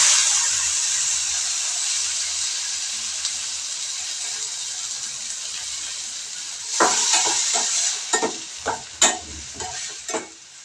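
Tomato paste frying in a pan with chopped big onions and curry leaves, a steady loud sizzle and hiss, joined later by stirring scrapes and clatter against the pan.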